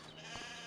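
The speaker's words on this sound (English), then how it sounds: "We also have some sheep in here," A single short sheep bleat from Farm Simulator 25 sounds faint and brief against a steady background hum.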